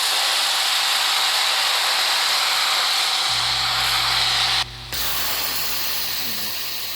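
A foam lance on a pressure washer running at a little over 1,000 PSI sprays foam in a loud, continuous hiss. A pump motor hum joins partway through, and the sound dips briefly near the end.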